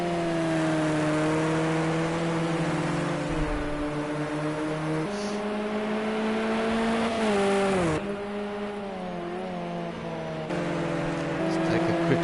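Race cars in an X-Series endurance round in the United Kingdom drone and whine past steadily, with engine pitch shifting through gear changes, heard continuously under a commentator's talk.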